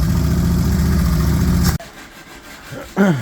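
An old Bombardier vehicle's engine idles loudly and steadily, then cuts off abruptly partway through, leaving quiet with a short burst of a voice near the end.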